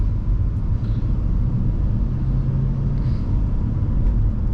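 A 1993 second-generation Honda Legend pulls away, its engine a steady low rumble with road noise throughout, heard from inside the car, no talking.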